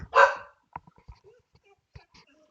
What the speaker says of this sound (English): there's a lot of dogs barking.